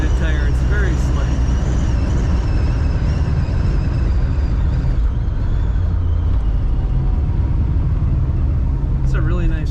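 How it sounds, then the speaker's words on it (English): A 1957 Chevrolet Bel Air two-door hardtop runs with a smooth, steady low engine rumble heard from inside, with someone talking over it and faint squeaks near the start and end. "It's a really nice running car."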